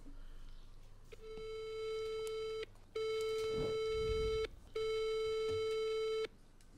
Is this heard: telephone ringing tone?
yes